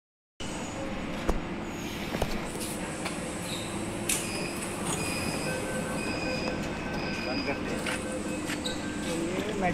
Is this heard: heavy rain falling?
no